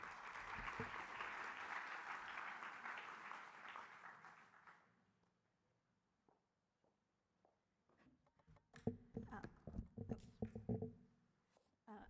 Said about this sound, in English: I ask you for a big round of applause to welcome Dorothée Rouzet.